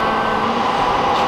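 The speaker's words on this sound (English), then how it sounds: "Trains." A train passing nearby is picked up by a camera's built-in microphone as a loud, steady rumble with a sustained mid-pitched whine, filling the short moment without voices.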